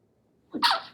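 A single sharp sneeze bursts out after a near-silent pause, close and fairly loud, with a brief breathy intake leading into it.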